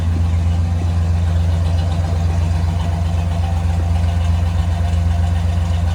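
A 1970 Pontiac GTO Judge idles steadily after a cold start, its deep, even engine rumble close and loud, holding a constant note throughout with no revving or talk.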